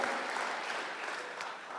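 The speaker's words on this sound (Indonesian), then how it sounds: "Tepuk tangan bagi Allah kita, dia gembala terbaik." A congregation applauds during an Indonesian church service, a thick, even roar of many hands clapping at a steady level throughout the short moment.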